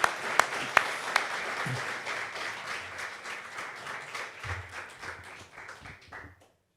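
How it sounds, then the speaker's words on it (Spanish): Audience applause at a book presentation in Buenos Aires, a dense burst of clapping that starts with a few sharp claps, holds steady, then thins out and fades away over several seconds. "ya empezamos con los aplausos"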